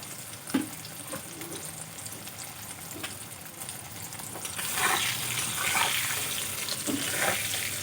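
Plantains and potatoes fry in hot oil for a rohu fish curry, giving a steady hiss with a few scattered clinks early on, then a louder, denser sizzle that continues to the end.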